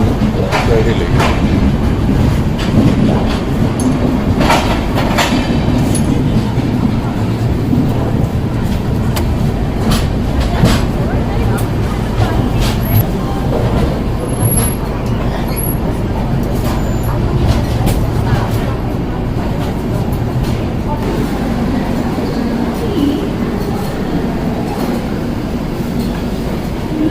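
Bihar Sampark Kranti superfast train running from Darbhanga to New Delhi, heard from inside a 3AC coach: steady loud rumbling roll with clickety-clack of wheels on rails, sustained throughout, with occasional voices nearby.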